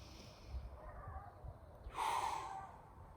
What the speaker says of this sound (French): Une respiration complète, profonde.